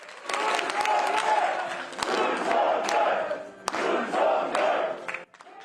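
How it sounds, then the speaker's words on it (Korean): Crowd cheering and applauding at a political campaign headquarters' closing ceremony as an election certificate is presented, a dense continuous roar with sharp shouts, close and alone. "다시 한번 환호가 쏟아지기도"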